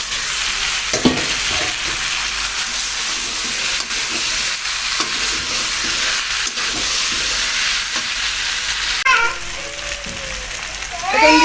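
Fried rohu fish pieces with papaya and potato go into a pan of sizzling spice paste and oil, giving a loud, steady frying hiss with stirring scrapes and a brief voice near the end.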